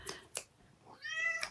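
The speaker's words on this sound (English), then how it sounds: "That was Pixie, my black cat." A black cat meows nearby in a quiet room, a couple of short chirps followed by one longer, rising and falling meow.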